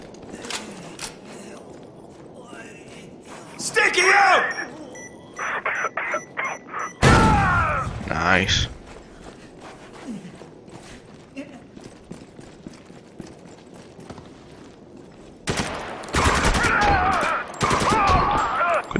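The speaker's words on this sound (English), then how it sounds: "Taking heavy fire." Heavy gunfire in the video game Spec Ops The Line, intense bursts of rapid shots in several volleys separated by quieter stretches, with voices talking between them.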